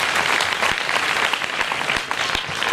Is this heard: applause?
yes